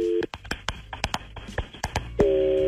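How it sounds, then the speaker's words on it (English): Phone line signal tones on a radio call-in show, short beeps that start and stop, mixed with clicks and sharp transients in a brief burst. "Let's make the phone call and see who he wants to send roses to"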